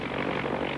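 Propeller airplanes circling in a long line during the National Air Races, a steady, dense engine drone with a broad rumble that holds constant throughout, loud and close with no talking.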